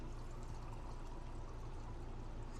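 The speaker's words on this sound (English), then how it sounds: "I'm gonna add a little bit water because it needs a little more water" Water pours steadily into a cooking pot of chícharos, a soft continuous rushing stream at low volume with no talk.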